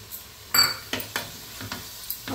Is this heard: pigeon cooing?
no